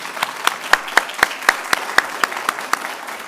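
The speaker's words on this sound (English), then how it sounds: "Let's just give another round of applause for all of our awesome speakers today." Applause from a conservation symposium audience, a steady run of sharp, distinct claps that sounds like only a handful of people clapping, fairly close, with no voices.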